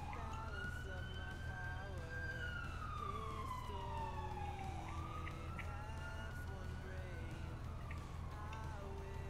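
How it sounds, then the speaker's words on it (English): Wailing emergency vehicle sirens from a roleplay video game glide up and down continuously, layered tones sweeping at moderate loudness against a steady low engine hum, with no talk over them. "I can hear sirens."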